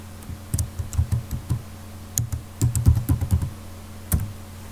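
Someone types a word into a search box on a computer keyboard, giving quick bursts of close, crisp key clicks in short uneven runs with brief pauses between, and no talking.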